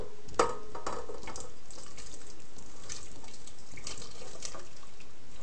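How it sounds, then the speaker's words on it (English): Mushroom and spinach soup splashes and trickles into a pan, a soft uneven pour with a few brief clinks, fairly close and quiet. "So I'm just going to pour it in."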